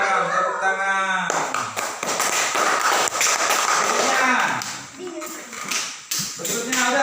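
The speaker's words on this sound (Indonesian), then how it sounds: "Silakan tepuk tangan." Pupils in a classroom clapping during a lesson, a burst of many hands that starts abruptly after a voice and continues in uneven waves, loud and close, with talk resuming near the end.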